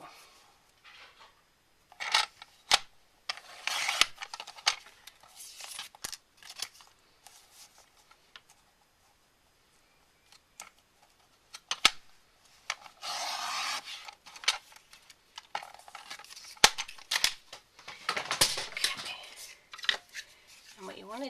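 Cardstock paper is trimmed on a paper cutter, giving several separate scraping, rubbing swipes of a few seconds each with quiet pauses between them, close by and moderately loud.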